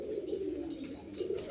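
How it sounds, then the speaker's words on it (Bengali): Pigeons kept loose in a large open loft coo softly and repeatedly, low rolling murmurs close by with faint light rustles in between. "এত বড় জায়গায় পায়রাকে ছেড়ে রেখেছি।"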